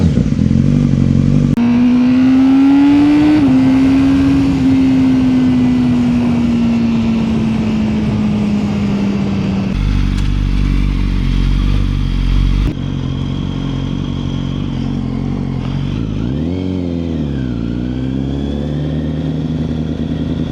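Honda 2025 CBR1000RR-R SP Fireblade motorcycle engine, loud and close, revving up into a high sustained whine that sags slowly, then cutting to rougher idle and blips with a dip and recovery near the end, no talking.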